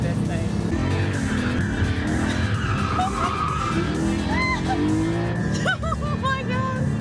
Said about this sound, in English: You can really feel like that awesome 6-cylinder motor kicking in.